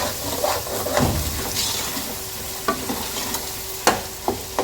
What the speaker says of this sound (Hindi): मटर और कीमे की भुनाई हो रही है।